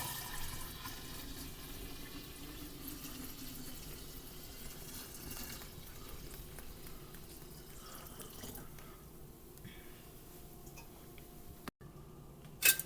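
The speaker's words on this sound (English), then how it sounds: "The tea will now be poured into the container by Randall." Homemade kombucha tea is poured into a container, a faint steady trickle with light dripping and ticking, quiet and close, with no talking.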